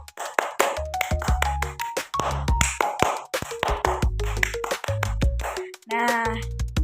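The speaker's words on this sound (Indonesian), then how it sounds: "yuk kita tepuk pramuka 2 kali ya" A group does the scout rhythmic hand clap (tepuk pramuka): sharp, patterned claps in quick bursts with brief pauses, mixed with chanted voices, close and fairly loud.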